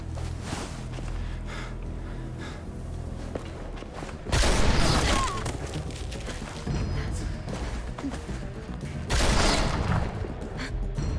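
Gunfire in Telltale's The Walking Dead: The Final Season, bursts of shots and booming thuds over a dense, rumbling game soundscape, with two louder surges of noise.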